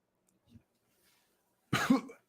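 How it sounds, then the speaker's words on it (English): A single muffled cough into an elbow, short and close, after a faint soft sound and near silence. "Elbow cough."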